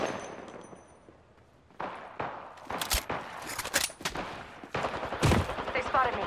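Rapid bursts of gunfire from the Apex Legends video game crack through a battle scene, with sharp shots clustered in repeated volleys, some loud and close, over a background of game effects.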